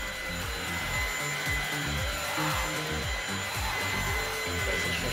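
A Dreame V11 cordless vacuum cleaner with a carpet brush runs with a steady, close high-pitched whine and rhythmic low thumps as it sweeps across carpet.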